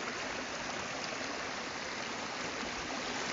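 Snow runoff stream flowing along a muddy Pennsylvania hiking trail in early spring, a steady close rushing and trickling of water that holds constant throughout with no voices.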